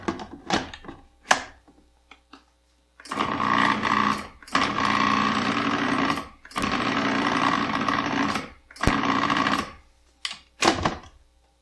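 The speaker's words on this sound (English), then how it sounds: "Just going to pulse this to blend the dry ingredients." A food processor pulses dry crostata ingredients mixed with organic lemon zest, giving several short whirring bursts followed by longer steady runs with brief pauses between them. The sound is loud and close, with no talking.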